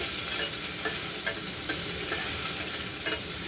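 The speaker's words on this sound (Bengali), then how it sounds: "চলো ভাজা ভাজাটা করি" Oil sizzles steadily in a pan while a utensil scrapes and stirs at irregular moments, close and clear, with no talking.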